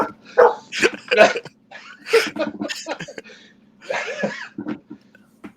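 A dog barks and yips in a run of short, fairly loud bursts with brief pauses between them, close by, with no talk over it.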